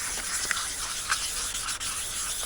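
A car headlight lens is wet-sanded by hand in circular strokes with plenty of sprayed water, making a steady, close, gritty rasping with faint rhythmic pulses from each pass, and no voices.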